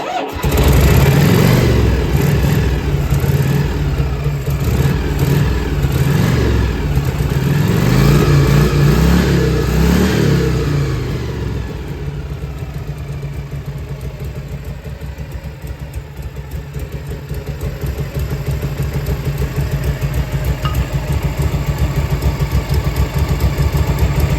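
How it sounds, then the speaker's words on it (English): A 1967 Harley-Davidson motorcycle engine cranks and fires loudly with a rough, pulsing run for about ten seconds, then settles into a steady, lower idle that continues close by with no talk. "Give it a little squirt of gas, a little bit of throttle, ignition."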